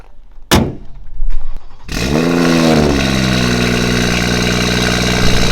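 A BMW car engine fires up after a few sharp knocks and thuds, then idles loudly and steadily close by as it prepares to pull away on a test drive.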